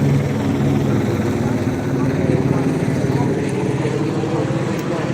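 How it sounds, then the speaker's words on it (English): A helicopter drones close by over San Pedro, California, with a deep, steady rotor thump that holds constant, loud and continuous from start to finish. "Helicopter again."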